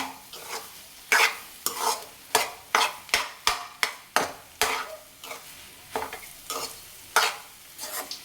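Egg bhurji fries in a pan while a utensil stirs and scrapes it in quick, regular strokes over a faint sizzle, with about a dozen sharp clinks and scrapes close by.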